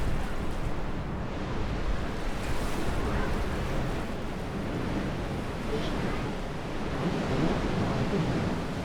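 Ocean waves break and rush along a coast below cliffs in a continuous roar of surf, with wind buffeting the microphone throughout and no clear speech.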